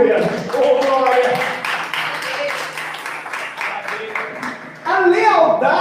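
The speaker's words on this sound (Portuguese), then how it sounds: "Palmas para Jesus" A church congregation clapping hands for Jesus, steady rhythmic claps running throughout under a preacher's loud voice and crowd voices, with a louder swell near the end.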